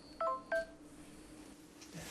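A smartphone connected to a hearing aid app plays two short, clean dialing tones in quick succession, then quiet room hiss.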